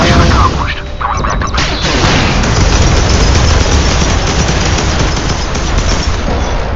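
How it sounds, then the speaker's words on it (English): A 30mm cannon on a strike fighter fires in a video game, a dense, continuous roaring barrage of rapid shots that fills the whole stretch, loud and close, while a voice talks briefly at the start. "and then you have actually the 30mm cannon"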